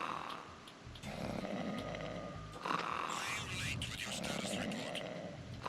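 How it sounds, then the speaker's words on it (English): A guard in Metal Gear Solid 2 snores loudly in deep, rasping cycles that swell and fade, with a player talking over the snores. "They literally put the loudest snoring guy."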